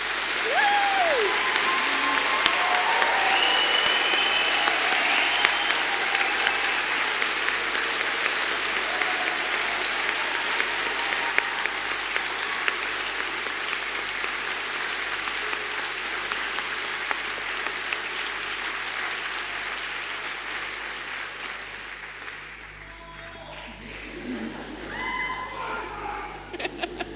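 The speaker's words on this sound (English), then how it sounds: "giving our amazing graduates a huge round of applause" Sustained applause from a large audience honouring graduates at a degree ceremony in Birmingham, steady and fairly distant, fading out near the end with a few scattered claps and faint voices.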